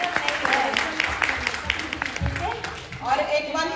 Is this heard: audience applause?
yes